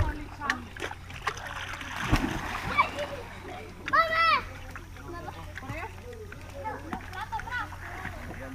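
Water splashing and sloshing during a fishing outing at Aramuaca, San Miguel, with bursts of splashes scattered among children's and adults' chatter and shouts.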